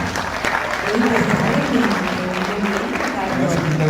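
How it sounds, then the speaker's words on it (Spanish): Audience applause at a live poetry event on a radio programme about Roque Dalton, a steady wash of clapping with murmured voices and tonal sounds underneath throughout. "Aplauso fuerte para ti."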